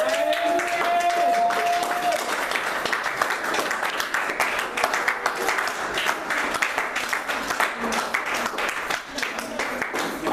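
Church congregation clapping and cheering together, a dense continuous patter of applause with voices calling out over it, moderately loud and sustained throughout.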